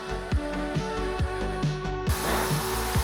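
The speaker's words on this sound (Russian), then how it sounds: "Сначала сделаю отверстие тонким сверлом, а затем тем, которое надо по диаметру." A thin drill bit boring a pilot hole into a piece of wood, the motor droning steadily with a rhythmic series of short bites and catches roughly every half second, close up.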